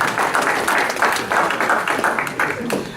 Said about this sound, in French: C'est vous qu'on applaudit.